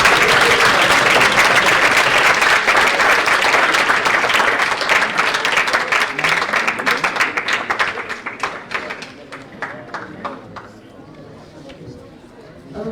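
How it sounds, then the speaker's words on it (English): Conference audience applauding student documenters at a national conference session, a dense burst of many hands clapping with some chatter, loud at first and then thinning to scattered claps that fade out. "So a round of applause for them and thank you as well."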